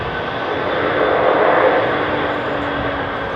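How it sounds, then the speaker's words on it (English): A large jet airliner with big engine fan blades passes at London Heathrow Airport, giving a loud, steady, broadband engine roar that swells slightly midway and holds throughout, with no voices. "Still a big aeroplane in terms of its fan blades"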